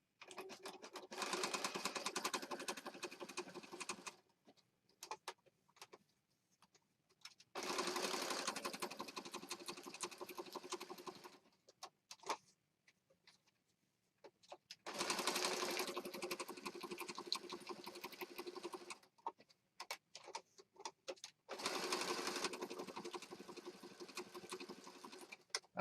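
A sewing machine stitches around a piece for a ladies-and-flowers junk journal, running in four steady bursts separated by short quiet pauses, close and fairly soft.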